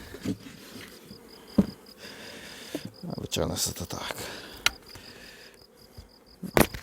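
Honey bees buzz at an open hive during a first inspection of nucleus colonies, a steady insect hum beneath someone speaking nearby, with scattered knocks and handling clicks.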